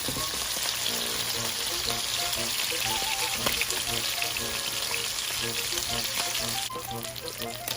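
Marinated fish frying in butter in a pan, a steady dense sizzle with light crackles and occasional stirring or utensil knocks, close and continuous without speech.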